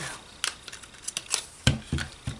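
A 1 3/4 inch circle punch cuts through paper in a few sharp clicks and crunches, close up, with small handling rustles between the presses.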